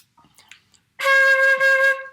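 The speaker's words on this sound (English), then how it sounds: "So on a flute, you have to blow across" A single sustained flute tone, made by blowing across the embouchure hole, starts after a second of near-silence and holds steady, bright and close.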